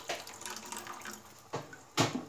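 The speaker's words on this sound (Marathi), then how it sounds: "तर साधारण हे अर्धा ग्लास पाणी यामध्ये टाकून घेतलेलं आहे मी" Half a glass of water poured into a kitchen mixer jar, a brief quiet splash and trickle followed by two short sloshing bursts, close and faint.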